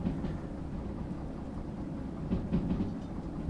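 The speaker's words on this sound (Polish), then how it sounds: "no to już będziemy powoli sobie wyhamowywać ten pociąg" Train in the Derail Valley simulator game slowing under braking: a steady low rumble of rolling wagons with faint clattering, continuous throughout with a slight swell near the end.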